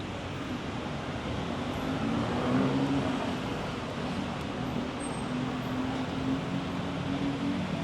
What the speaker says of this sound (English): There's cars everywhere.